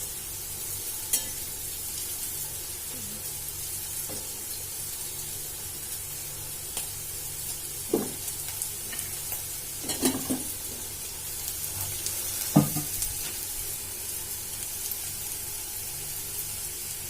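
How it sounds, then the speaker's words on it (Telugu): Hot oil hisses steadily in a pan during tempering for an amaranth leaf fry, a fairly quiet continuous sizzle broken by a few scattered clinks and crackles, with no voices. "3 టేబుల్ స్పూన్స్ ఆయిల్ వేస్తున్నాను అండి."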